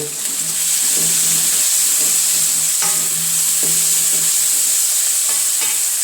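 Sliced onions sizzle steadily in a pan for beef cutlets, a close, loud frying hiss with a few brief stirring scrapes.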